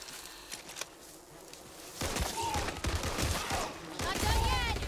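Gunfire in the zombie shooter Back 4 Blood erupts in bursts of rapid shots, loud and close, after a quieter opening, with a voice talking between volleys.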